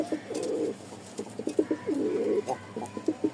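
Large pigeons, male and female birds kept for sale, coo repeatedly in short rolling bursts, fairly close and moderately loud against a low background hum.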